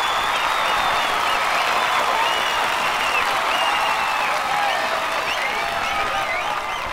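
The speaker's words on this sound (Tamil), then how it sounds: "எனக்கு தெரியும் உங்களோட இந்த கைத்தட்டல் நான் சம்பாதிச்சது கிடையாது, நம்ம அண்ணன் கொடி சம்பாதிச்சது." Loud, dense applause from a large crowd greeting a speaker at a public gathering, a steady wash of clapping that holds evenly throughout with no talk over it.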